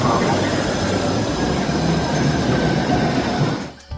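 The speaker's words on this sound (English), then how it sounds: "subway" A subway train rumbles loudly with squealing wheels and rattling carriages, then the noise abruptly cuts off near the end.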